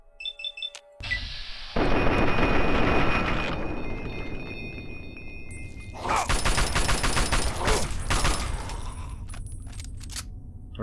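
Gunfire in the video game Fallout 3, with bursts of loud shots and explosive crackling, dense and sustained at times, broken by brief pauses and interface beeps.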